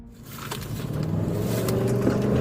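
A fleeing car accelerates away, its engine rising steadily in pitch and loudness over a couple of seconds, heard fairly close with no voices.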